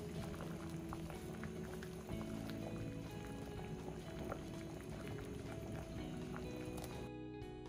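Matzo ball soup boiling in a pot, a steady, loud bubbling roll that carries on with little change before a softer stretch at the end.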